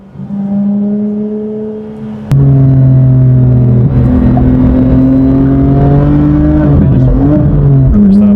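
A sporty budget car's engine revs up strongly under hard acceleration on a 0 to 60 run, with a steady loud drone that jumps in pitch after a brief shift and keeps climbing, heard close from inside.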